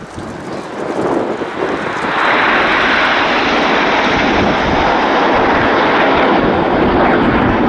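Red Arrows display jets fly past at the Royal International Air Tattoo, a loud, rising jet roar that swells within a couple of seconds and then holds as a broad, sustained rush, with no voices.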